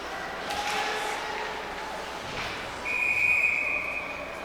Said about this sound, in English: we've got a whistle and a stoppage